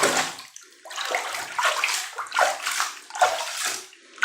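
Water sloshes and splashes in a tub as soap ingredients are mixed by hand, with repeated surges of splashing at a steady, uneven rhythm, close and fairly loud, no talking.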